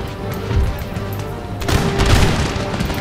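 Cannon barrage in Empire: Total War with the Ottoman Empire: a deep boom early on, then a louder cluster of overlapping cannon blasts with rumbling decay, mid-distance, over a steady battlefield hum.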